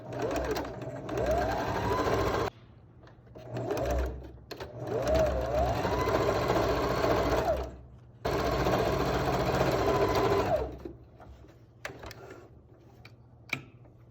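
Close sewing machine stitching a fabric face mask seam at a scant quarter inch, running in several bursts of fast rhythmic whirring that speed up and slow down, with quiet gaps and a faint tick near the end.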